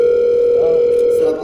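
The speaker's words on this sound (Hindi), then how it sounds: "सर आपका फोन आ रहा है" A phone ringing with a loud, steady electronic tone that holds almost unbroken and cuts off near the end, close and alone without talk.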